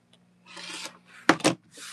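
Quilt block fabric being trimmed for a ribbon quilt block, with a few close, soft rubbing and cutting strokes separated by short silent pauses, including one sharper burst midway.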